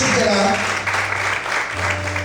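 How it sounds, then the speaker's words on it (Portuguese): A church congregation claps in praise during a sermon, a brief burst of scattered applause under a lingering low musical tone and some voices. "Será que você pode aplaudir o Senhor por isso?"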